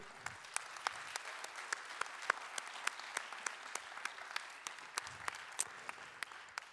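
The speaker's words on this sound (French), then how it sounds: "on va convier à vos côtés les membres du jury sous un tonnerre d'applaudissements" An audience at a heritage awards ceremony applauds the arrival of jury members, a soft, fairly distant stretch of steady clapping with individual claps standing out crisply and no talking.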